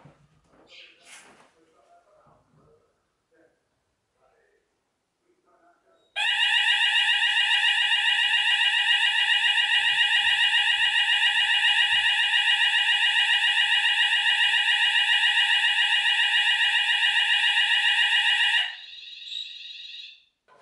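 A loud, steady electronic sounder on a Notifier/Hochiki ESP fire alarm system blares continuously for about twelve seconds during a system test, then drops to a quieter tone before stopping; faint handling noises come before it.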